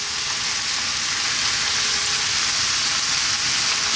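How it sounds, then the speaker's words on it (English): Cold cooked basmati rice fries on high heat in a pan, giving a dense, steady, close sizzle that holds evenly throughout with no talk. "You need to actually fry the rice."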